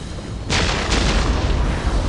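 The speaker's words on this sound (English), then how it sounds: "We will silence that Orc artillery." Ork artillery fire in the Dawn of War Warhammer 40k video game, a sudden heavy boom followed by a second blast and rolling explosive rumble, loud and close.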